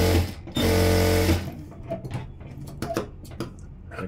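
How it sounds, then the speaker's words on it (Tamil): A sewing machine runs a continuous loud burst of stitching around a blouse piece, then stops, leaving scattered handling clicks and fabric movement. "இப்போ இந்த இடத்துல நம்ம கச்சாவாக தையல் போட்டுக்கலாம் சுற்றி."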